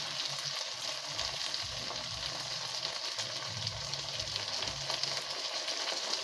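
Chilli chicken stir-fry sizzling hard in a pan after soy sauce is added, giving a steady, loud, continuous frying hiss with no voices.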